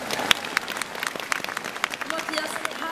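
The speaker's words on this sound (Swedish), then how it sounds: "Ge mig en applåd tycker jag" Light audience applause at a Christmas concert in Örebro, a faint scatter of claps heard under people talking nearby.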